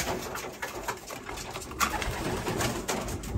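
White grizzle racing pigeons coo softly in a loft in low, throaty murmurs, several birds overlapping close by with a faint rustle in the background.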